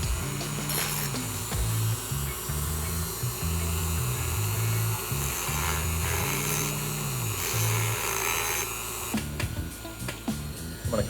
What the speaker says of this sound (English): until I get a real rotary tool, I will continue using my Dremel